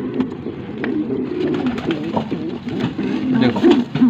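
Pigeons coo at a nest holding eggs, with an agitated male among them; the soft, rolling coos repeat close by and continuously.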